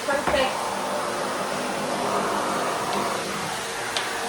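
A Miele canister vacuum cleaner runs with a steady airy whir, close and fairly loud, while a voice talks over it.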